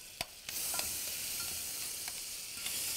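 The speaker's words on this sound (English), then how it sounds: "because we are going to pour the lemon juice in hot oil, it's going to kind of, so it steams" Lemon juice hitting hot oil in a pan gives a bright, steady sizzle and hiss that carries all the way through, broken by a few sharp spits and crackles near the start.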